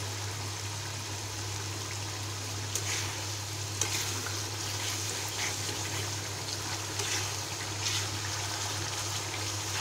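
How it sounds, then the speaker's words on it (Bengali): Spiced beef masala with torn bay leaves and a splash of water frying in a pot, giving a steady close sizzle over a low hum, with occasional faint clicks of stirring and no talk. "মশলাটা ভালোভাবে কষিয়ে নিতে হবে"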